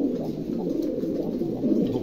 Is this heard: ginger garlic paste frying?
no